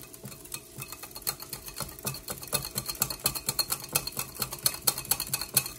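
Ground lamb for smashburgers is mixed with a touch of truffle oil, giving soft wet squishing and clicking of a utensil against a bowl in a quick, irregular rhythm, close and fairly quiet.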